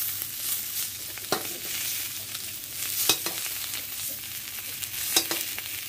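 Sausages frying in oil in a pan, with a steady close sizzle and a few sharp scraping stirs against the pan; no talking.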